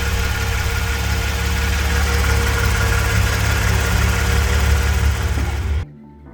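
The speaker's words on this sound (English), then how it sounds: "If you pull the cap off while it's running, hear the idle, how it's bogging?" A 3.8L engine in a Genesis Coupe idles roughly and bogs with the catch can cap pulled off, a loud, close, steady rumble that cuts out abruptly near the end.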